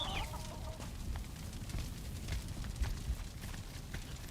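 Chickens cluck softly and intermittently in the Valheim video game, fairly quiet and close, over light ambient background noise with no talking.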